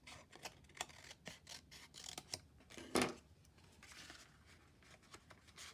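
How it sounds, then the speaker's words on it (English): Scissors snip through paper for a Night of Bethlehem shadow box card, trimming a dune piece down; a quiet run of short, crisp cuts with one louder snip partway through, no talking. "I'm going to just cut this"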